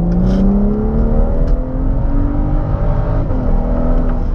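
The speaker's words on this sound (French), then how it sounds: "le son à l'échappement il est fêlé hein" A BMW 135i with 340 hp under way, its exhaust droning loud and close with rising engine tones through acceleration and brief dips between gears, no talk over it.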